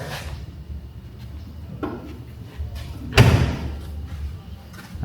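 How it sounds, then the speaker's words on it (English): A door is locked from inside and tried in a dark room, giving a sharp thud-like knock with a softer bump before it, close and fairly loud against a quiet background. "Then door just locked from inside."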